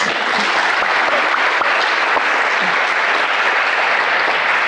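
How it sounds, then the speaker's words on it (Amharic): Steady, dense audience applause at a televised quiz competition, continuous clapping from a crowd holding at an even, fairly loud level throughout with no voices on top. "ለሁለቱም ወይ አጨብጭቡላቸው ወይ አታጨብጭቡላቸው"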